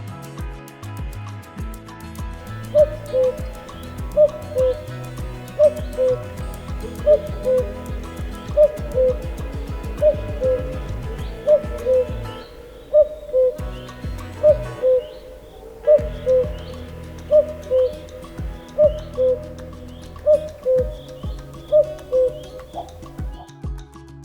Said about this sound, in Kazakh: Көкек.